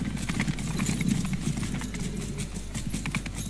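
Cavalry horses thunder across a battlefield in Mount & Blade 2: Bannerlord, a dense, fast drumming of many hooves mixed with battle noise, continuous and fairly loud.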